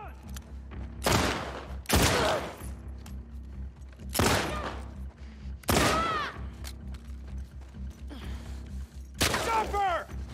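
Bursts of gunfire in the action game The Last of Us Part II, several loud volleys spaced a few seconds apart, each a sharp crack with ringing tails, over a steady low game ambience with occasional shouting.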